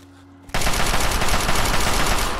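Sustained automatic gunfire in Fallout 3 erupts abruptly after a short quiet moment, a loud continuous rapid stream of shots that keeps going without a break.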